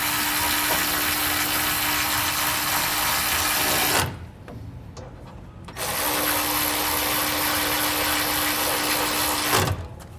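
A power tool snugs bolts during an Air Lift LoadLifter 5000 Ultimate air helper spring install under a vehicle, running as a steady, loud whir in two long stretches split by a brief pause.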